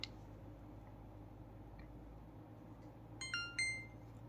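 An Insta360 X4 8K 360 camera powering on gives a short series of electronic beeps near the end, close and clear over a quiet room hum.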